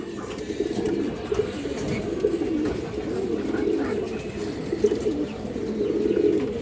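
A pair of green-necked pigeons coo close by in low, repeated, throaty rolls that carry on steadily without speech.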